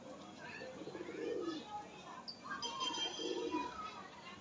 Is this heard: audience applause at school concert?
no